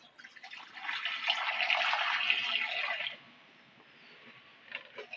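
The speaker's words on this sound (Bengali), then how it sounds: "উনুনের উপর কড়াটা বসিয়ে দেবো। বসিয়ে দিয়ে কড়ার মধ্যে সামান্য পরিমাণে একটু জল দিয়ে দেবো।" Water is poured into a wok set on a clay stove, a close steady splashing gush lasting about three seconds, then fading to a faint hiss and soft clatter.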